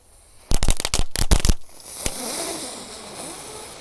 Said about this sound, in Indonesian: ini ada mercon gangsing super 3 warna